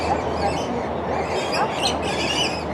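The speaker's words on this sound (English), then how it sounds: "These are called rainbow lorikeets." Rainbow lorikeets at Brevard Zoo in Melbourne, Florida, chirp and squawk in a busy chorus over loud steady background noise, close and continuous.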